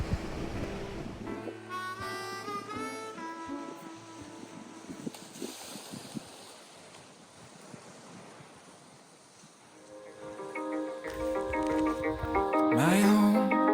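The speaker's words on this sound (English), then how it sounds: "listen to the sound of waves crashing against the rocky shore" Surf breaks against a rocky shoreline along a coastal trail at sunset, a steady wash of waves with wind buffeting the microphone, swelling louder toward the end, with a few tonal sounds over the top.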